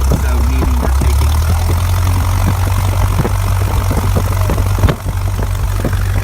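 A Cessna's engine rumbles in a loud, constant low drone from inside the cabin while taxiing to the runway, with faint clicks and brief voice fragments underneath.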